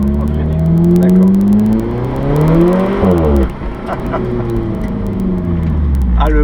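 Alfa Romeo 4C limited edition four-cylinder engine revving hard up through the gears, loud rising whines with a brief drop between shifts, then climbing again, close and dominant with little talk.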